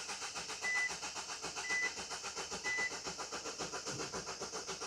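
A van's common-rail diesel engine cranks over on the starter, a steady, rhythmic whirring churn that repeats evenly throughout. A short beep sounds three times, and no one speaks.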